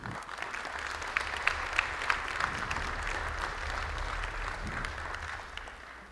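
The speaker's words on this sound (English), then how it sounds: "Let's save applause for the end" Audience applause for an award recipient at a high school NJROTC inspection ceremony on a deck, steady sustained clapping from a crowd with a few sharper nearby claps standing out throughout.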